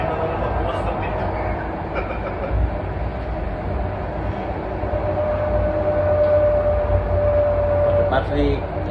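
A subway train runs steadily through a New York City tunnel, its loud constant rumble and rail noise filling the whole stretch, with a brief high squeal near the end and voices faintly beneath.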